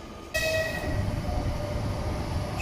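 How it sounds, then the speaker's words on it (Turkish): A train arriving at a station in Russia sounds a sustained, tonal horn blast that fades into the steady rumble of the rolling train, fairly close and without talk. "Şu anda trenimiz geliyor."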